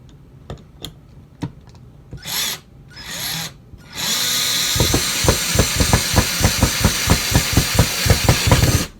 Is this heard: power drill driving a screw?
yes